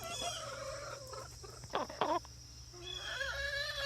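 Backyard chickens clucking and squawking, a few sharp close calls bunching in the middle over steady outdoor background hum, with softer chatter trailing off toward the end.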